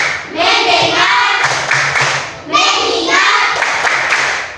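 Group clapping from a grade 6 class playing the "tepuk fokus" clap game comes in repeated rhythmic bursts, loud and close, with children chanting between the claps.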